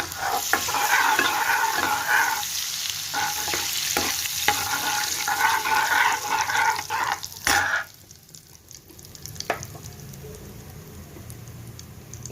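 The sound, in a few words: bay leaf, cinnamon and cumin sizzling in pan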